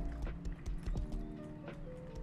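Horse in the survival game Rust, with soft hoof clip-clops and a brief whinny-like call, faint and close, no talk over it.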